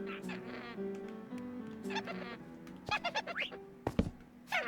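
Parrots in Minecraft squawking and chirping in short bursts over a soft ambient game background, several calls clustered near the end.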